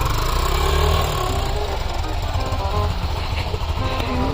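Motorcycle engine running loudly and roughly with the rear wheel stuck in a pothole at a festival site, a constant close rumble with knocking pulses and no pause.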